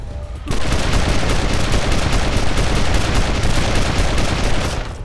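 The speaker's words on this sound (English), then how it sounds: "Oh, he shot his own friend!" Loud, sustained burst of rapid gunfire fills the scene in the video game Wasteland 2, a dense rattling volley of heavy machine-gun shots that starts abruptly and continues for several seconds without pause.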